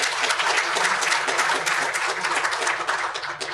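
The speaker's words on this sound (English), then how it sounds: "could we give them a round of applause as well?" An audience applauds at a public event honoring women of the LAPD, with dense, sustained clapping at even loudness throughout.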